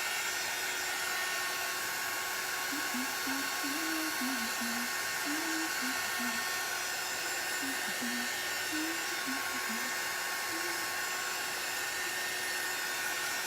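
A handheld hair dryer blows steadily on a freshly layered vintage-truck T-shirt design, a loud continuous whoosh running the whole time with faint talking underneath.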